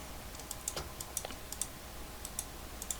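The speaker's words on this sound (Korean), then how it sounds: "네모 툴로 클릭" Quiet, crisp clicks of a computer mouse and keys tap out an irregular pattern while drawing with a rectangle tool in Illustrator, each click small and close against a soft room hiss.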